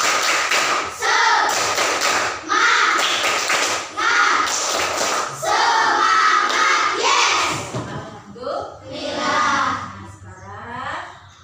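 A school class performs the rhythmic 'tepuk semangat' chant-and-clap, bursts of patterned clapping and thumps alternating with children's voices, close and loud, ending in scattered shouting.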